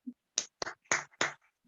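A small group in a church Bible study session claps briefly: about five sharp, dry hand claps in an irregular quick burst, close and crisp in a quiet room.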